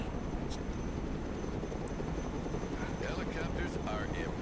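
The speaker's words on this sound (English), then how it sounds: "Helicopters are impressive." A helicopter flies in the modern-warfare real-time strategy game Broken Arrow, giving a constant, loud, rumbling roar throughout, with faint voices surfacing toward the end.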